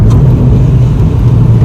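A Vauxhall Astra Bertone engine blips and revs up during heel-and-toe downshifts as the car comes to a stop. The engine noise is loud and close, with a low rumble throughout.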